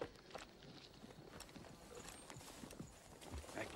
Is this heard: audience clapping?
no